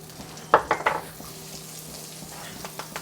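Butter hits a preheated pan and crackles in a quick burst of three sharp sizzles, then settles into a faint, steady fry with a few soft clinks of a utensil.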